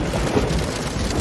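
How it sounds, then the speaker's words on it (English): A rain sound effect played on a keyboard: a brief, steady wash of dense, hissing rainfall with a low rumble underneath. "Rain!"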